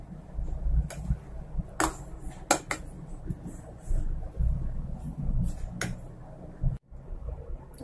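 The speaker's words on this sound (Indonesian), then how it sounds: "Lalu aku aduk lagi biar nggak terlalu mengembang." A spoon stirring banana fritter batter in a bowl, soft irregular scraping and occasional sharp clinks against the bowl, close and fairly quiet.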